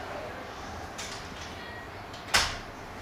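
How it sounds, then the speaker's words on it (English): An indoor door is pushed shut, giving one short, sharp thump near the end over a quiet room background. "Shut the door, please."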